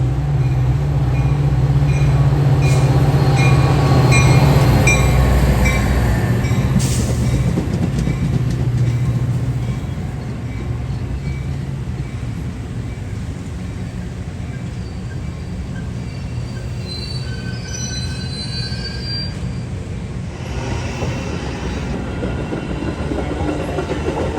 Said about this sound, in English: BNSF train number 1241 2R is now arriving